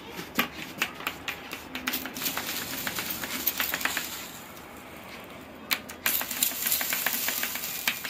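Water sprayed onto heated tempered glass crackles and hisses in repeated sharp bursts and steady sizzling, close and fairly loud, with a short quieter lull midway.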